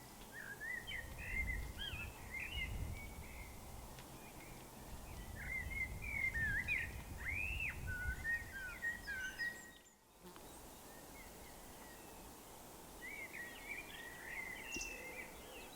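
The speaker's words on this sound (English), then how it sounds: "Beautiful bird song all around here, absolutely lovely spot." Birds sing all around a rural hillside spot in the Quantock Hills, with many chirping, warbling calls overlapping continuously at moderate distance over a steady outdoor background.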